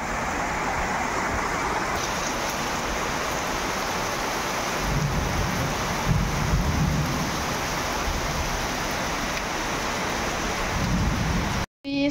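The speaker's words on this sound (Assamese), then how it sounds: "বাহিৰত বৰষুণ পৰি আছে" Steady rain falls outside in a continuous wash of noise, with a low rumble beneath it throughout.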